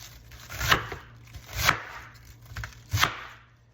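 A knife chops through chuck roast beef for a Filipino sinigang in three distinct, evenly spaced strokes, each a sharp, close thud on the cutting board with quiet pauses between.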